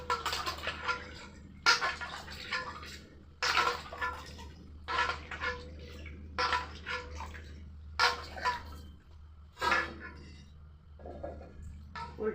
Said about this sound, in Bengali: এবারে ভালো করে ওলটা ধুয়ে নেব।